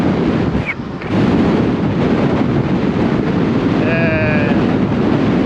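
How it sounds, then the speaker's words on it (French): Strong wind buffets the microphone while riding a fat bike, a loud, constant roaring rumble, and a brief high-pitched squeak cuts through near the end. "il y a beaucoup de vent, hein, j'espère qu'on m'entendra"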